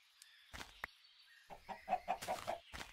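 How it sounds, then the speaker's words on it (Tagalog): A chicken in the video game Minecraft clucks in a quick series of short, soft calls after a few scattered clicks, faint and close with no voices over it. "nainis ako sa chicken, sa manok, sa fried chicken"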